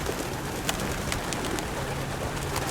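Racing pigeons in a big flying aviary coo softly and steadily as a flock, with low murmuring calls blending into a constant, dense background hum.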